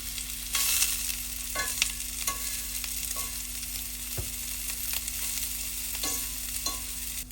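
Sausage frying in a pan, a continuous close sizzle with occasional stirring scrapes and clicks, steady throughout over a constant electrical hum.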